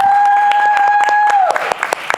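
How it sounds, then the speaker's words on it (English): Brief burst of applause from an audience at a transit-oriented development event in Chicago, scattered claps rising over a sustained tone that fades away midway, with a voice nearby. "I didn't expect the applause"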